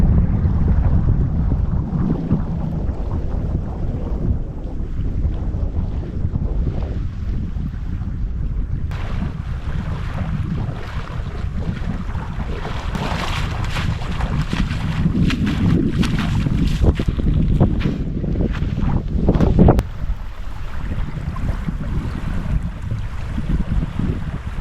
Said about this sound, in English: Had to put up a wind barrier because the wind off the lake was putting out the flame